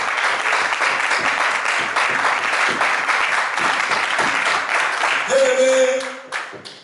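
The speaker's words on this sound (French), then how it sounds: "Est-ce qu'on peut acclamer très fort pour le Seigneur? Acclamer pour le Seigneur." A church congregation at a Bartimaeus seminar breaks into sustained, loud applause and cheering that fills the space steadily, then a sustained tone rises near the end as the clapping fades out.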